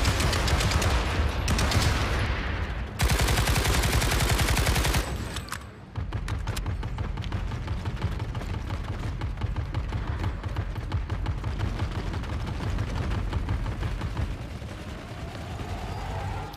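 Dense, loud gunfire from the PlanetSide 2 video game: sustained automatic bursts and heavy blasts at night on Amerish, with a brief lull near six seconds before the rattling firefight resumes and carries on.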